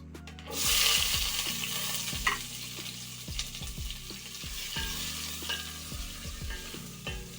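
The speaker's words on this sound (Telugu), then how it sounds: "తర్వాత కట్ చేసి పెట్టుకున్న ఆనియన్స్ ఇందులో వేసుకోవాలండి" Chopped onions hit a hot pot with a sudden burst of sizzling for a spicy crab curry, then keep frying under a steady hiss while a utensil knocks and scrapes the pot in repeated stirs.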